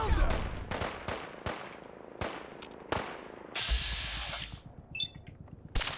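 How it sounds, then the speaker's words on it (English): Gunfire in the video game Fallout 4 cracks out as a rapid series of sharp shots at a steady rhythm, followed by a brief whooshing energy blast and more shots near the end. "Stop shooting my guys, you jerk."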